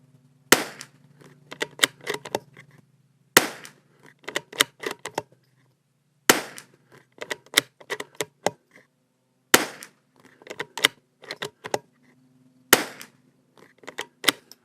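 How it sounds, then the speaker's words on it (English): A Christensen Arms Ranger .22LR rifle fires Lapua Center X ammunition in five sharp, evenly spaced shots roughly three seconds apart. Each crack is followed by a scatter of faint clicks and rattles from the action and ejected casings. "That's 10-round group on target from the Christensen Arms, just as it came from the factory with Lapua Center X."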